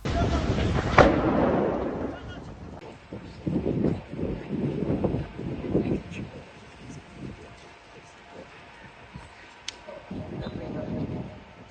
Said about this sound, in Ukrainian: Спочатку пролунали три вибухи, потім зайнялась пожежа і повалила Кіптява.